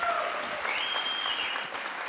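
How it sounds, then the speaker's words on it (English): An audience at the Faith & Freedom Summit 2023 in Philadelphia breaks into applause, a dense, steady clatter of clapping from a large crowd, with a faint whistle rising briefly above it. "that deserves applause."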